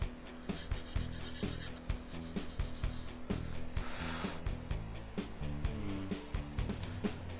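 Cleanup work on a Tamiya 1/48 plastic Corsair model, with soft, close scraping and rubbing strokes on plastic in an uneven rhythm over a faint, steady background hum.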